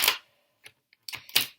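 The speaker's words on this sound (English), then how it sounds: "I am going to shuffle 3 times and then I'm going to continue shuffling" Tarot cards being shuffled by hand in brief bursts: a sharp riffle at the start, then short papery flicks and a couple of louder shuffling rushes separated by near silence.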